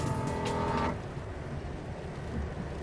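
A Honda Accord drives itself on the road. Steady vehicle noise and road rumble are heard from inside the car, with a tonal engine or motor whine in the first second that fades into a lower, even hum.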